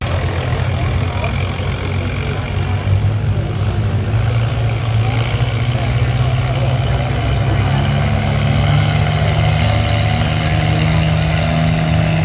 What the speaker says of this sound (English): We got Chris Haas in the 1950 International Super A Industrial.